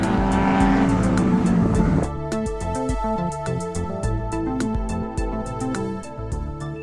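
Race cars in a KZN road racing round sweep through a circuit turn, one engine loud and close at first, then several cars roaring and revving together with steady gear changes.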